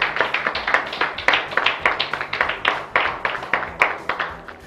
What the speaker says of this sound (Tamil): கைதட்டு கொடுங்க அவங்களுக்கு.